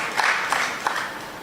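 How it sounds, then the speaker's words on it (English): An audience at a public consultation on Trinidad and Tobago's National Carnival applauds, a dense wash of clapping that holds steady with a few louder claps rising out of it. "I would really like you to give them a real wonderful round of applause"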